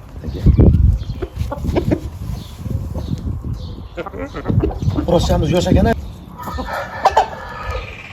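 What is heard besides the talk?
Dakan breed hens and chicks clucking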